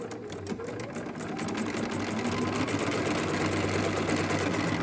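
A sewing machine stitches a quarter-inch seam on a fabric hair bow, back stitching at the corner, its motor humming in a steady close chatter that holds at an even level for the whole stretch with no voices over it.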